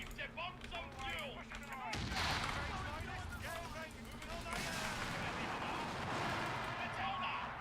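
A video game bombing run with incendiary devices: a dense wash of explosions and gunfire swells after a brief quieter start and then rumbles on continuously, with other sounds layered over it.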